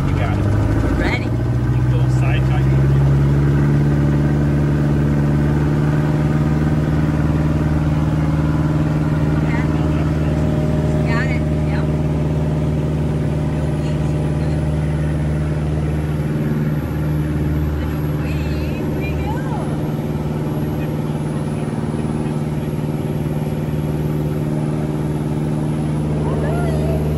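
Steady loud drone of a Vans RV6-A light aircraft's engine in cruise at about 6,500 feet, a constant close hum from the cockpit with a voice speaking over it.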